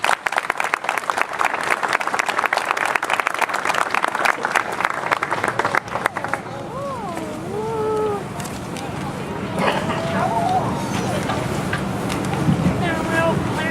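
An outdoor crowd at a 9/11 memorial street-naming ceremony for Firefighter Michael G. Behette claps for a state senator, brisk applause that fades after about six seconds into wind noise and voices talking.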